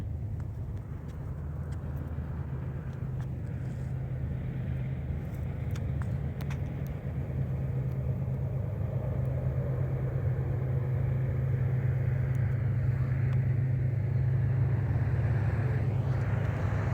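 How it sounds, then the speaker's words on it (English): A Ford Mustang passes a railroad crossing, its engine and tire noise a steady, fairly loud broadband rumble holding throughout and swelling slightly toward the end, with no talk. "we had a Mustang coming through"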